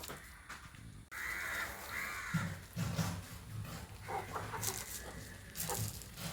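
Hens and chicks cluck and squawk close by while being fed rice, with soft pecking and scratching sounds between the calls as the birds move about.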